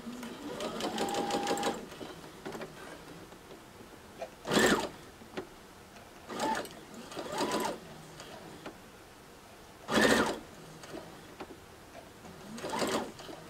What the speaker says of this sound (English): I'm going to take this to my sewing machine, and with my quarter inch seam allowance